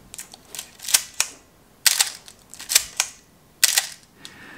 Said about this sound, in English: rangefinder cameras have a reputation as being quiet cameras, and we'll go ahead and listen. And it's a fairly quiet sound.